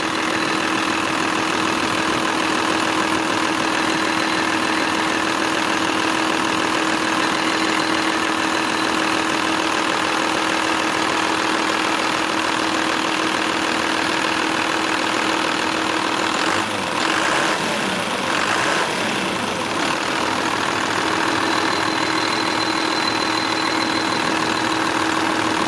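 Stock 2nd gen Dodge 12 valve diesel ranch truck with big rig style exhaust, idling with a loud, constant rattling clatter up close, a brief rougher patch midway before it settles back to an even idle.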